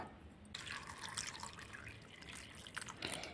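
Water pours over peeled jackfruit seeds to wash them, a faint steady splashing trickle that swells after a brief quiet start, with no talk.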